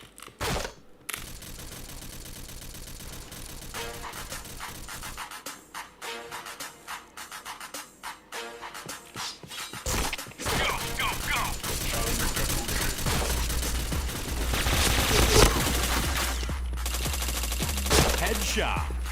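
Gunfire from the Point Blank video game, with bursts of rapid shots and sharp single cracks over loud bass-heavy background music, growing busier and denser toward the end.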